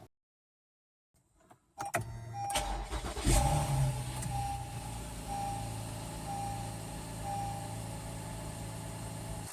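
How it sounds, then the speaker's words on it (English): After a moment of silence, a 3.5L V6 engine in an Acura MDX or Honda Pilot cranks and starts, revs briefly, then settles into a steady idle with a faint periodic whine. "we're going to let the engine get to normal operating temperature"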